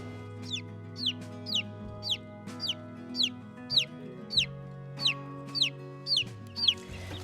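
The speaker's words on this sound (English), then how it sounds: "Now this is one of our Cornish cross chicks, which is a little over a week old." Week-old Cornish cross chicks in a brooder give a steady series of about a dozen high, evenly spaced peeps over a low continuous hum, close and clear.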